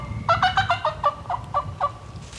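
A wild turkey gobbler lets out a single rapid rattling gobble, a string of about ten quick throaty notes lasting around two seconds, fairly faint and heard from a distance outdoors.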